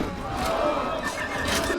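A horse whinnies amid a loud clamor of shouting crowd noise in a Game of Thrones episode scene, the neigh rising briefly over the din without any talk.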